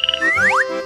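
A cartoon frog croaks in a quick burst of three short pulses followed by rising, chirpy sweeps, brief and close.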